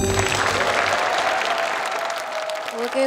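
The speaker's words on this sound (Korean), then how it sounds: "자, 박수 한번 쳐주세요." Audience applause at a Korean high-school lecture on managing school grades, a steady wash of many hands clapping in a hall, with faint voices mixed in near the end.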